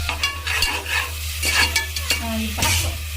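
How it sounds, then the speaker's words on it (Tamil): Ginger-garlic paste frying in a pan for green chicken biryani, a steady close sizzle with a low hum beneath and intermittent scrapes and clinks of a spoon stirring through the paste. "பச்சை வாசனை போகிற வரைக்கும் ஃப்ரை பண்ணணுமாம்மா?"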